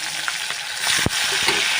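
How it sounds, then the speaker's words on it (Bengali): Prawns fry a second time in a hot wok on a gas stove, giving a loud, steady sizzle with a few sharper spatters and stirring scrapes close by, with no talking. "সেকেন্ড একটু ভেজে নেব"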